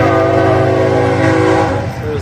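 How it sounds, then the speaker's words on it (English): A train passes close by, its horn blaring a loud, sustained chord over the heavy rumble of the rail cars for a couple of seconds. "There's the train. Choo-choo!"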